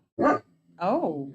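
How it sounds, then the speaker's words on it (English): A dog gives two close, loud barks, a short one followed by a longer drawn-out bark, with a brief human exclamation mixed in. "he usually barks when you eat ice cream"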